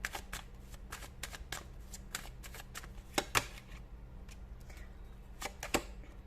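Tarot cards are shuffled up close in a steady, fairly quiet patter of rapid papery flicks, with a few sharper snaps along the way and no talking.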